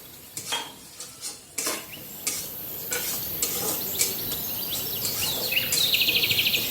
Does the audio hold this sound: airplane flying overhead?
no